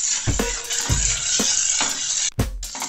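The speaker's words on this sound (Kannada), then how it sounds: "ನೋಡಿ, ಹೈ ಫ್ಲೇಮಲ್ಲೇ ಒಂದು 2 ನಿಮಿಷ ವೆಜಿಟೇಬಲ್ಸ್ನ ಫ್ರೈ ಮಾಡ್ಕೊಬೇಕು." Carrots and peas frying on high flame in a pan for Yippee noodles, a steady loud sizzle broken by several stirring scrapes and a brief dip near the end.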